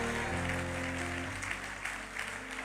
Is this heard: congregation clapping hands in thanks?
yes